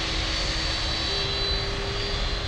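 A cargo Boeing 767 takes off at Miami International Airport, its jet engines producing a steady, broad roar with a thin high whine, heard from a distance without pause.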